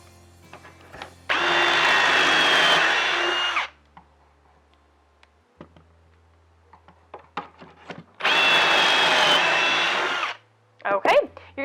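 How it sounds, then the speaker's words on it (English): A power drill bores pocket holes through wood clamped in a Kreg 300 Series pocket hole jig, in two loud, close bursts of about two seconds each, separated by quiet handling clicks and taps. "So let's drill a couple holes"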